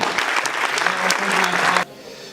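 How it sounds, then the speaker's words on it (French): A conference crowd at a Brittany chamber of commerce event gives a short burst of applause to welcome a chamber president; the clapping is dense and steady, then cuts off abruptly after about two seconds. "J'invite à applaudir Jean-François Le Tallec, président de la CCI du Morbihan"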